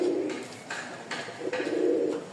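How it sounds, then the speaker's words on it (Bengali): Pigeons cooing in a small enclosure, a pair of white-beaked, feather-footed birds offered for sale: soft repeated coos rolling in steady low pulses, close and continuous with no talk. "এই দেখেন কবুতরগুলা খুবই সুন্দর আর চমৎকার জোড়া"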